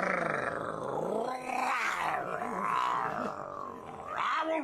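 An actor voices an imitation of a lion's roar in a radio drama of Shakespeare's A Midsummer Night's Dream, one long loud growling roar rising and falling for several seconds, with no other voices.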